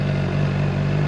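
Honda CBR600RR 600cc sport motorcycle engine running close by, a steady buzzing idle with a strong low hum and no distinct rev rise in this short stretch, alone without speech.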